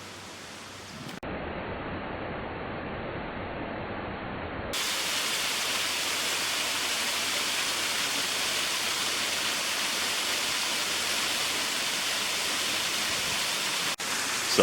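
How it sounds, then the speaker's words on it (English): Water pours steadily at Rainbow Springs waterfall, a broad continuous rushing hiss that starts softer and swells louder a few seconds in, then holds as a constant close roar with no talking. "Sounded like the water was coming from this direction, and thus we have found it."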